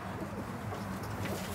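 Domestic pigeons coo softly in a loft, a low continuous murmur under steady background noise with no clear separate calls standing out.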